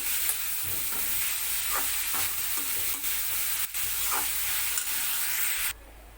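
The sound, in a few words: grated carrots sautéing in ghee in a kadhai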